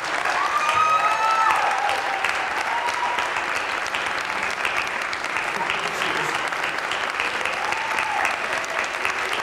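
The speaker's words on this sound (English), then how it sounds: "I want to hear a really big round of applause" An audience claps steadily in a big round of applause that swells at the start and holds fairly even throughout, with a few faint voices and whoops mixed into the crowd.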